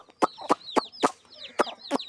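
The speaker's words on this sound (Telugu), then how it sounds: "ఇక ఈ చిన్న పుంజులు, అది కూడా చిన్న పుంజు, ఇది కూడా చిన్న పుంజు." Young roosters cluck close by in sharp, rapid calls, about six distinct clucks in quick succession with no talk over them.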